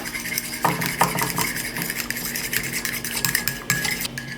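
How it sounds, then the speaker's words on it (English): A hair treatment mixture with drops of oil is stirred in a bowl, with utensil scrapes and clinks in an irregular rhythm, fairly close and clear, with no talking. "I'm just gonna stir that up"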